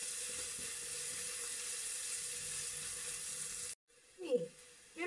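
Oil heating in a pan sizzles steadily in a close, even hiss for several seconds before cutting out, followed by a brief knock and scrape.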